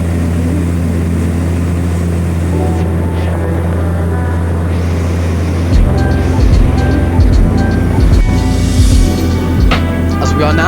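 Pratt & Whitney Canada PT6A34 turboprop engines on a Loganair Twin Otter descending into Campbeltown Airport drone steadily with strong low harmonic tones, deepening into a louder throbbing rumble from midway on.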